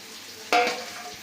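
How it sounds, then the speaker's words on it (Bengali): Spice masala frying in a pan, a soft steady sizzle with one sharp scrape of a spoon near the middle. "তো মশলাটা আমাদের খুব ভালোভাবে ভাজা হয়ে গেছে"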